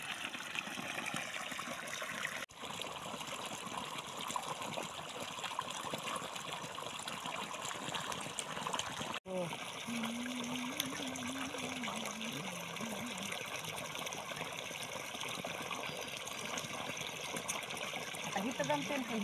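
Water pours steadily from a borewell pipe into a field channel as a continuous, fairly quiet rushing flow, with faint voices in the background.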